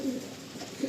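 Andhra Kalsira Lalsira pigeons give soft, low cooing close by, a brief throaty murmur rising again at the end.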